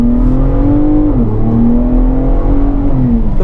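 A Ford Bronco Raptor drives on a track, its turbocharged engine droning loud and close with a steady note that dips and recovers as the driver lets off and downshifts.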